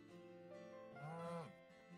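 A cow mooing in the video game Assassin's Creed Unity: a single drawn-out low moo that swells in the middle and fades, fairly faint and alone.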